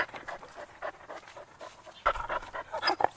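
A dog pants quickly and rhythmically, breathing quietly up close, with a louder burst of panting toward the end.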